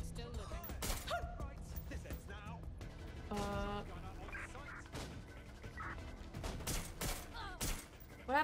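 Gunfire in the Watch Dogs video game: bursts of shots and crashing impacts scattered through a busy game mix, at moderate loudness, with people talking over it.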